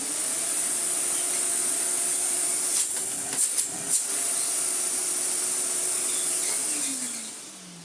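An AEG Vampyr Electronic 8800 vacuum cleaner motor runs with a steady high whine and airy hiss, interrupted by a few brief knocks and rubbing handling noises before the pitch begins to wind down at the end.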